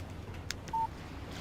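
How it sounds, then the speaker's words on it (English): A short electronic text message alert tone from a phone in the video game Alan Wake Remastered, a single clean beep standing alone over quiet game ambience. "Text message from Barry."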